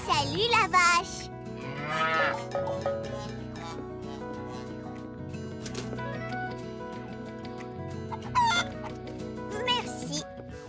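A cow moos loudly in long drawn-out calls over background music, with voices speaking briefly at the start and end.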